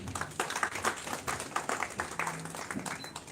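An audience at a film festival award ceremony in India applauds a jury member, moderately faint clapping with distinct individual hand claps in an uneven rhythm.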